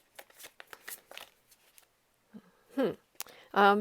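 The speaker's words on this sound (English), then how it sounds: "I'm going to shuffle the cards just a little bit here" Brief riffling bursts of tarot cards being shuffled, quick papery flicks in a few short runs, close and soft, followed by a voice starting to speak.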